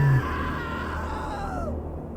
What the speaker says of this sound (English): That was a scream.